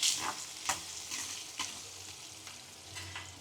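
Vegetables cook in a pot on a low flame while a spoon stirs them. A soft sizzle runs underneath, and the scrape of the spoon along the pot returns about every half second to a second.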